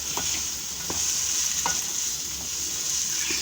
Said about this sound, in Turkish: Fasulyelerini de koyalım anneciğim.